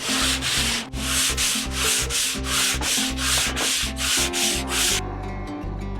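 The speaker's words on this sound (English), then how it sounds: "Just kind of went over it with some sandpaper, made sure that it was shaped perfectly" Sandpaper rubs back and forth over a walnut slingshot rifle stock in about ten rapid, even strokes, loud and close, ending with brief lighter scratches.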